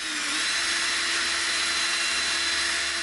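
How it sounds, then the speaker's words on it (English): A power drill whines steadily at high speed for a few seconds while drilling holes in EVA foam, a continuous buzzing drone with no pauses. "we are going to drill our two holes"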